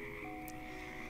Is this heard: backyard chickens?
no